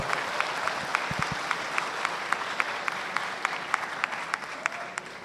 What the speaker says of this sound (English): Ladies and gentlemen, please give a warm round of applause to our Excellency Dr. Ali Rashid An-Nuaimi once aga